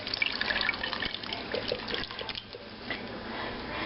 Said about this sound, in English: So now I'm going to pour that cornmeal in there.